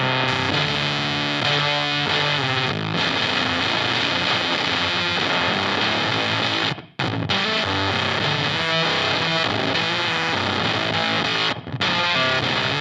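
Guitar through a buzzy octave-up fuzz effect in garage rock style, loud, dense and saturated, with glitchy tracking artifacts and two brief sharp dropouts in an otherwise continuous roar.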